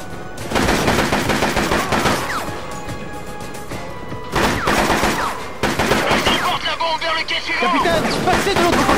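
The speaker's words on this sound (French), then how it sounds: "Je les tire !" Loud machine-gun bursts and single shots crack through a Shadow Ops: Red Mercury firefight, in repeated volleys with crashing impacts, while voices speak over the shooting.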